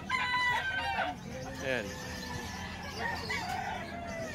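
Young ball stag roosters at a market cluck and crow nearby, one clear crow rising mid-clip amid scattered clucks, with someone talking over them.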